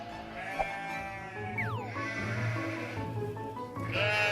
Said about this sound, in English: My youngest son, David, is in the field taking care of the sheep